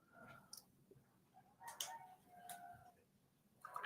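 Neighbours' roosters crowing outside a co-working space in Bali, a few faint, distant crows and calls scattered through quiet background noise.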